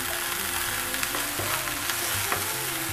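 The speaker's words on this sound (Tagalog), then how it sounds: "Then saute the garlic. Let's put the onion. Then saute. Let's put the ginger." Garlic, onion and ginger sizzle steadily in a hot pan for ginataang pusit, a constant close frying hiss with faint stirring scrapes and no voices.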